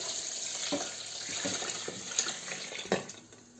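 Steady rushing of 3.5 litres of water poured into a pot of washed strawberries and bananas for homemade juice, a continuous splashing wash with a few brief clinks partway through.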